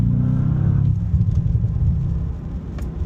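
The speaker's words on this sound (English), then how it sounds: "there's even a little bit of runoff there on the exhaust, a little bit of overrun, a little bit of burble" A 2025 Bentley Continental GT Speed lets out a deep low exhaust burble on overrun, a rumbling, slightly crackling engine note heard from inside the car that gradually fades as it coasts.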